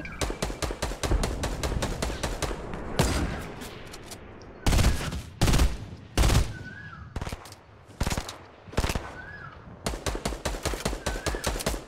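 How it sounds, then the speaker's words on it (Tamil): Rapid gunfire from a Fortnite match: dense bursts of automatic shots alternate with heavier single sniper-rifle cracks, loud and close, with brief pauses between volleys. "என்னோட ஸ்னைப்பர் ஷாட்லாம் எல்லாம் மிஸ் ஆகுது"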